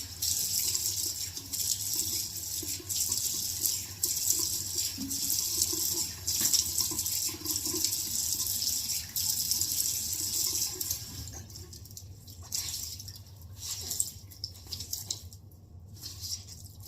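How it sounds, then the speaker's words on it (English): Tap water runs steadily into a sink while a face is rinsed, a continuous close splashing hiss that turns patchier and broken near the end as hands move through the stream. "I still see some foam, so I'm just going to rinse my face"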